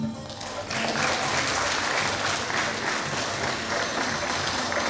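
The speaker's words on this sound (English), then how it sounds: "Do not stop clapping." A graduation audience of students and proud parents claps continuously, a dense, loud wash of many hands that begins softly and surges to full strength within the first second, then holds steady without voices.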